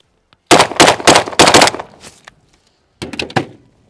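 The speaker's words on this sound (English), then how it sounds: "Starting with a good old AK" A frozen AK rifle fires in freezing cold, a close, loud rapid string of about six sharp shots followed by a pause and another quick burst of several cracks.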